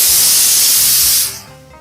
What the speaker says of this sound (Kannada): ಕುಕ್ಕರ್ ಕೂಡ ಕೂಗ್ತಾ ಇದೆ ಆಗಲೇ